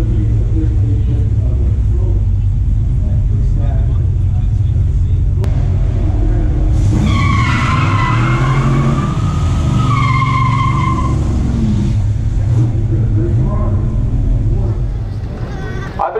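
A 1974 Duster 360 and a 1970 Chevelle SS launch in the final round of a pure stock drag race, loud engine roar with squealing tires and rising revving tones, a voice talking over much of it.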